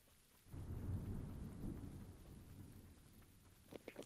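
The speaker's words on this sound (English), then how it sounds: "A little thunder." Thunder rumbles through a rainstorm in PUBG: Battlegrounds, a long low roll rising after a quiet start and holding steady for several seconds over the hiss of rain, with a few sharp crackles near the end.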